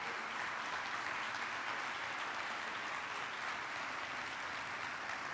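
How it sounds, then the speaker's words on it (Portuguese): Church congregation applauding during a Portuguese-language sermon, a steady, dense wash of clapping from many hands that holds evenly throughout, with no voices over it. "Eu posso ouvir um aplauso da igreja para aqueles que se sentem fracos?"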